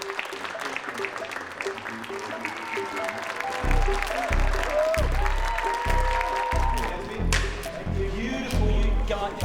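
Crowd of extras on a film set clapping in a burst of applause that builds partway through, with irregular claps and voices talking over it.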